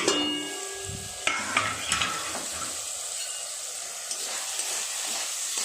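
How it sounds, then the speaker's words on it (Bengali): Eggplant fries in a pan with a continuous sizzle, punctuated by the scrape and clink of stirring, louder in the first few seconds and then settling into a steady hiss. "আর একটু ভাজা হোক, তারপর নিম পাতাটা দিয়ে দেবো।"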